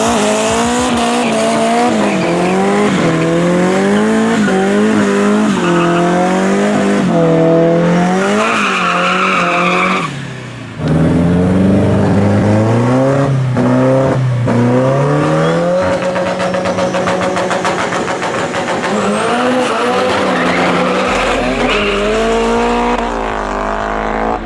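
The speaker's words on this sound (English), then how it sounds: "The Corolla got the lead and held it until the car cut out" An SR20-powered Toyota Corolla and another car race on the street, engines screaming through loud rising and falling revs with tire squeal, close and continuous.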